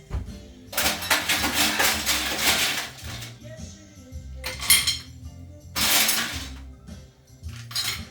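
Ice rattles and clinks against a martini glass in short bursts, bright glassy clatter coming and going with quieter gaps between, close by and with no voices.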